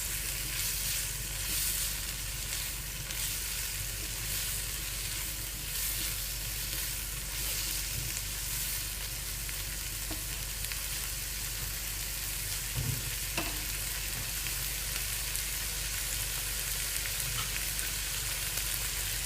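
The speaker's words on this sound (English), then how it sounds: "You have to give a quick stir to all the vegetables." Vegetables fry in a pan while being stirred, a constant close hiss of sizzling oil with faint scraping of the stirring underneath and no voices.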